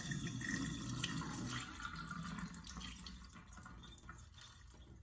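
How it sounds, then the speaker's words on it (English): Water draining off washed grits in a kitchen sink, a steady close rush of running water with light splashing and dripping throughout, no voices. "Drain the water off."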